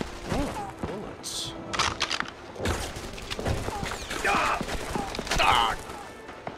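Gunfire in a World War II video game on the PlayStation 2: rapid bursts and single shots crack out close and loud, with mechanical clatter between them and a voice reacting over the action.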